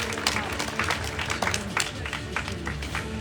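An audience claps steadily at the Miss Lorraine beauty pageant, a dense patter of hands filling the hall with voices mixed in.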